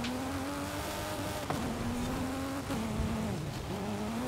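A rally car slides in the video game Forza Horizon 5, its engine droning steadily at a fairly even pitch, with brief dips and rises and a faint scrabble of loose surface beneath it.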